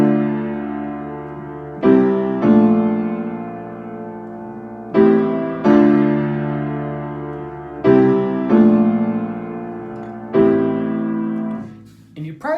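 Minor-scale chords, sustained keyboard-like chords struck in a slow progression, each ringing and fading before the next, close and clear with no talking.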